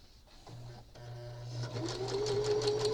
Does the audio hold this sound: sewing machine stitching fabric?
yes